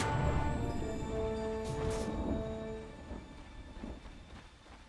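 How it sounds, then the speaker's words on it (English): Thunder in the Dota video game rumbles low and broad, rolling on for several seconds and slowly fading, with a steady hiss of rain beneath it and no voices. "Thunder approaches."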